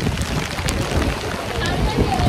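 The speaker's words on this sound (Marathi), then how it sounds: "पाऊस लागलाय ते जोरदार." Heavy rain pours down at Velankanni beach in Uttan, a steady broadband hiss and patter filling the clip, with wind buffeting and faint background voices mixed in.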